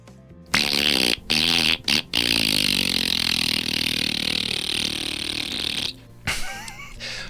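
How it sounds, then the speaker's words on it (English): A comic fart noise in a kids' radio show with a robot, a loud buzzing raspberry that starts with several short sputtering bursts and then stretches into one long rumbling blast before a final brief sputter. "My fart noise was funnier than all your jokes put together."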